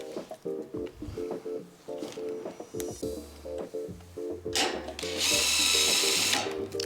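A power drill whirs in short repeated bursts while driving bolts into a Koda utility cart with a pull-out tray, followed by one longer, louder, higher-pitched run near the end.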